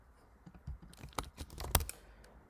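Keys clatter on a computer keyboard as a password is entered, a quick uneven burst of light clicks building to a few sharper taps, fairly close and otherwise quiet.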